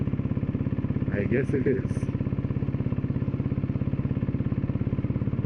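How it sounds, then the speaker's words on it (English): Motorcycle engine with a carburetor prone to acting up, idling and chugging steadily in a rapid even pulse throughout, close and loud, with someone briefly speaking over it. "My carburetor is going to complain again today."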